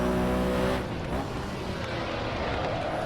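A Porsche 917K race car engine in Assetto Corsa drones loudly, a hard rev that drops to a steady lower roar after a gear change, continuous and close throughout.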